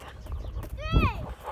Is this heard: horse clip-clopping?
yes